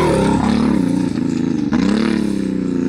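A Hellcat Demon-swapped side-by-side on dirt revs hard and close on the throttle, its engine roaring with rising and falling pitch sweeps and a brief dip of tip-in between pulls.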